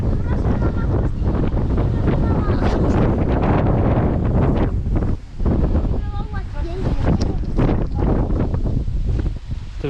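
Strong October wind gusts batter the microphone on a mountain trail, a loud continuous roar with brief lulls that rises and falls throughout, no clear talk over it.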